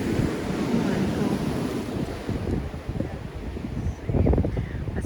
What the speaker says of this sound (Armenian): Այս կողմը ալիքները շատ չեն, այդքան, բայց այն կողմը ալիքները ավելի շատ են։